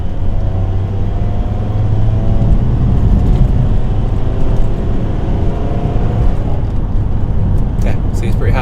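A VW T5 Transporter van with a remapped engine and custom intercooler pulls under steady, droning acceleration, a continuous close engine hum filling the whole stretch with no break.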